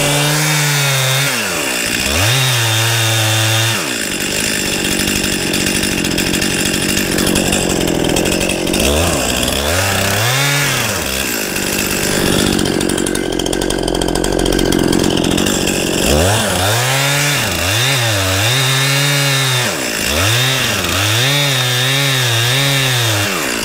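A chainsaw cuts through a tree during removal, its engine rising into a loud, sustained whine under load, easing back and revving again in repeated cycles across the cut, close and dominant throughout.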